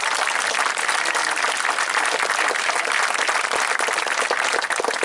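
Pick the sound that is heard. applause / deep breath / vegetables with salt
applause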